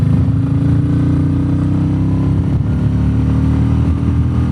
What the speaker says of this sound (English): the engine pulls very smooth.